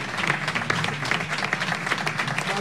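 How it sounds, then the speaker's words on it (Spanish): Applause from an audience at an international verbal-humour congress fills the whole stretch, dense steady clapping with a few louder bursts and faint voices mixed in. "Un aplauso para todos."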